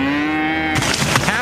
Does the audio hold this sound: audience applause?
no